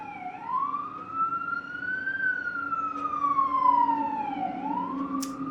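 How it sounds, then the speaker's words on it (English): A wailing fire truck siren rising and falling in long sweeps, moderately distant, passing by over faint road noise. "Oh, got a siren going by."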